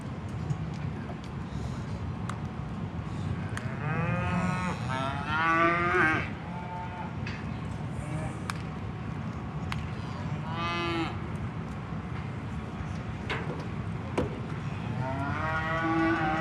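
Cattle at a livestock show moo several times, some calls long and drawn out, others shorter, over the steady hum and murmur of a large hall.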